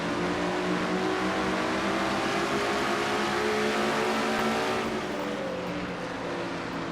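Stock race cars at speed in a race completing a lap, a loud continuous roar of engines with layered revving tones that holds steady and tapers slightly as they pass.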